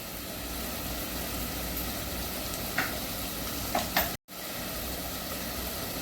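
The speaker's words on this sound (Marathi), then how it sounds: "कांदा चांगला आपण लालसर होईपर्यंत भाजून घेणार आहोत." Onions fry in a pan for a spicy chicken curry, giving a steady, even hiss of sizzling oil with a couple of soft clinks partway through.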